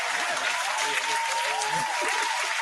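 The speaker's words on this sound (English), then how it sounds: "Clap it up for that." Applause on a live podcast, a steady, fairly loud wash of clapping with a faint tonal hum and soft voices underneath.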